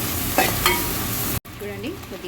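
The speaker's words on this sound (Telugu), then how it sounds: "దీంట్లోనే అల్లం కొంచెం పచ్చి వాసన పోయేదాకా మనం ఫ్రై చేసుకోవాలండి." Ginger fries in oil in a pan, a dense close sizzle broken by a couple of sharp stirring scrapes, then a brief cut to quieter, softer frying.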